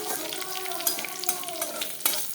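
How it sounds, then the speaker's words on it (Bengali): Garlic cloves and black cumin seeds fry in hot oil in a home kitchen while a small fish curry is being made, giving a soft, continuous sizzle with a few sharp spatters, heard close up with no talking. "রসুনটা একটুখানি ভাজা ভাজা হয়ে গেলে"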